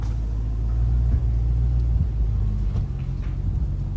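A truck pulling a trailer throttles up, and a loud, close, low engine rumble builds and then eases slightly near the end, with no talking.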